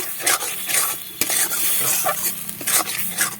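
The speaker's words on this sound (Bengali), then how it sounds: "এবার এটা শুধু একটু নেড়ে নেড়ে একটু শুকনো করে নেব" Yard long bean paste is stirred in a pan over low heat to dry it out. Close scraping strokes and a soft sizzle come in uneven bursts throughout.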